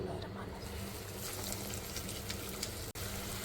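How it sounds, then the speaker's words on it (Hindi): Chicken tikki frying in oil in a home kitchen, giving a steady, even sizzle that runs unbroken from start to finish at moderate close range. "अब हम इनको फ्राई करते हैं।"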